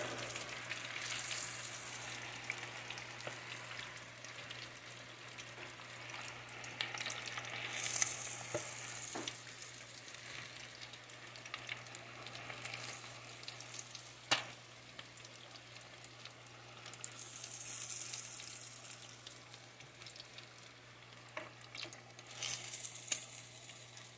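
Crappie fillets sizzle and crackle in hot oil, a steady fry with swelling bursts of bubbling and occasional sharp pops, close and fairly quiet, with no talking.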